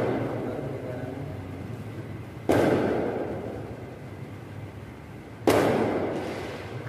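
Firecrackers go off in two sharp, loud bangs a few seconds apart, each with a lingering crackly decay, over a low background murmur.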